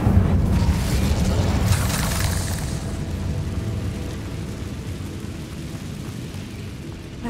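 A deep fiery blast from the Incendio spell in Hogwarts Legacy, a loud rumbling boom with a crackling burst at the start that fades into a low, lingering roar.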